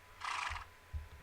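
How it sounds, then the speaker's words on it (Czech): A horse whinnies in a video game, a short bright neigh lasting about half a second, followed by low soft thuds that may be hoofbeats, all fairly quiet. "Potom tady kůň"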